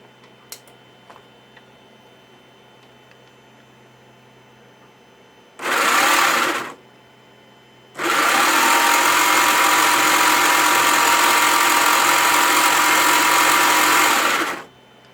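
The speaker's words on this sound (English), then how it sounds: "So here goes the second test of the sprocket assembly to see how well it'll operate." Johnny 5 robot sprocket gear assembly under test, whirring loudly in two bursts, a short run of about a second followed by a longer sustained run of roughly seven seconds, after a quiet hum.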